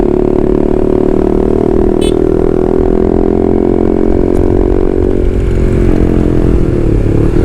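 Honda CB150R motorcycle fitted with a WRX GP6 exhaust, its engine holding a loud, steady, deep droning idle and rev that stays near and constant throughout, with no talking.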